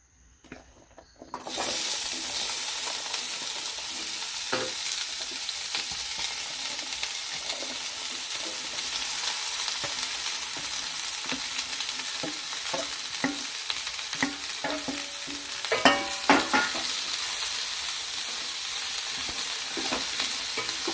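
Bitter gourd, shallots and green chillies hit hot coconut oil in a pan and break into a loud, steady sizzle that carries on throughout, with occasional clicks of stirring.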